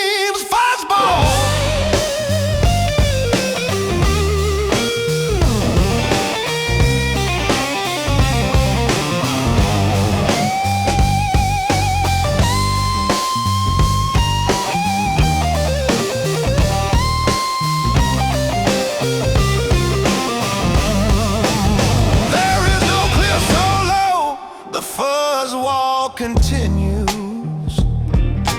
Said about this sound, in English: A bluesy bend fights its way through the distortion, only to be swallowed and spit back out as harmonic squeal.